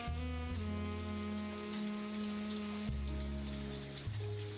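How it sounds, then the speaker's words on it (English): Steady rain hiss in the video game The Roottrees are Dead: Roottreemania, a continuous soft noise bed under sustained, tonal background music, with no talking. "The sound of rain, continuous like."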